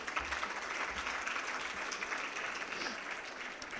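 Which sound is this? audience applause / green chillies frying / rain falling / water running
audience applause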